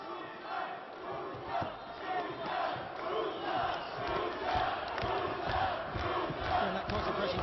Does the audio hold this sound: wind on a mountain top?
no